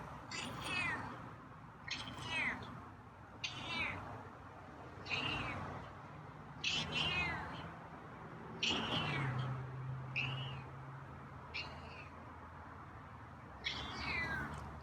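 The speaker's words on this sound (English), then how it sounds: "got some meows today" A feral cat meows again and again, about nine drawn-out, fairly close calls at a steady pace with short pauses between them.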